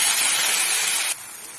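Masala with turmeric and chili powder sizzles in hot oil for chickpea masala, a loud steady hiss that suddenly drops to a quieter sizzle near the end.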